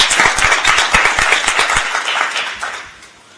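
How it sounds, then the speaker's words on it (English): Audience at a school board meeting breaking into applause, a dense patter of many hands clapping, loud and close, that tapers off over about three seconds. "Can I get a round of applause?"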